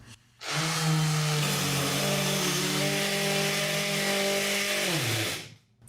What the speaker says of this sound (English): So Stephanie's in the middle of putting this frame together by drilling in some screws